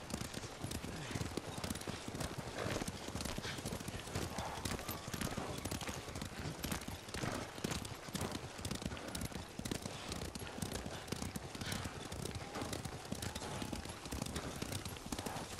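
Horses galloping in the Ghost of Tsushima video game, steady clip-clopping hoofbeats close by that continue throughout, with a faint whinny and some talk underneath.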